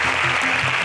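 Audience applause for contestants at an agricultural science quiz show, a short steady patter of clapping under faint background voices.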